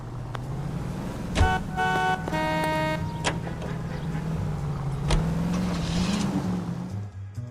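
Car driving in the video game L.A. Noire, a steady engine drone with a few short horn-like toots and tones on top, moderately loud and close.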